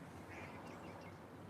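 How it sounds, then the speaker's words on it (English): Ducks quack in a short, quiet burst, their calls faint and mixed into a dense outdoor background of steady noise, with no talking. "These ducks are very aggressive."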